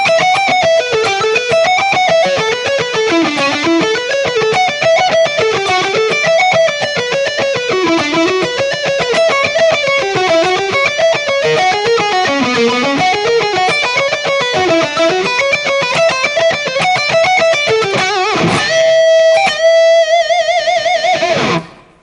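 A slow electric guitar lick played with alternate picking, with wavering melodic runs that finish on a whole-step B-string bend held with heavy vibrato, loud and continuous with no talking.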